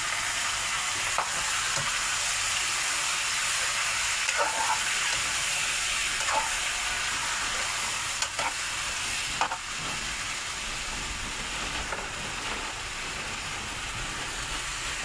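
Squid and shrimp adobo fries with reddened onions in a pan, giving a constant hissing sizzle close by, with occasional light taps and scrapes of stirring.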